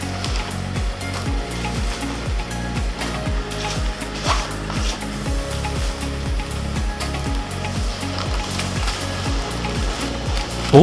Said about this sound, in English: Workers weigh the product and seal it using a semi-automatic packing machine.